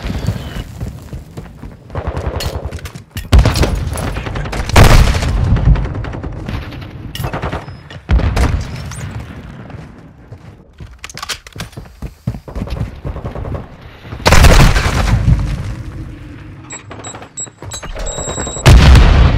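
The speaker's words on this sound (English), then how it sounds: "Friendly precision airstrike inbound." Explosions from a precision airstrike in Modern Warfare 2, with several heavy bursts mixed among scattered gunshots. The booms hit loud and broadband, and the loudest cluster comes late, amid the busy noise of a match.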